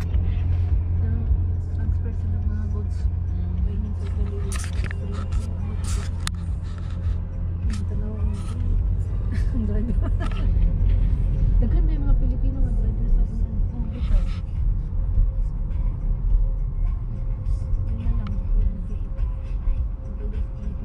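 Heavy truck traffic on the road from Germany to Italy makes a continuous low rumble of engines and tyres, with vehicles passing close by and people talking over the drone.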